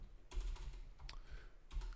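Typing on a computer keyboard while configuring a Home Assistant setup on Ubuntu: a few quick, close bursts of key taps with brief pauses between them, quiet and alone.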